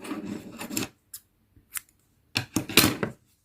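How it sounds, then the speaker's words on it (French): Scissors snip through crochet yarn at a worktable, a few close, dry rasping cuts separated by short pauses, with one longer double snip near the end. "je vais faire une maille en l'air et je vais couper le fil"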